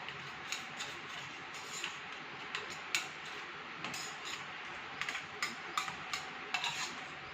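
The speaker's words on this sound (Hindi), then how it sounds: "अब इस शहद को अच्छे से हमें इसके साथ मिक्स करना है" A spoon mixing honey into onion juice, light quick clinks and taps against a small container at an uneven rhythm, faint and close over a quiet hiss.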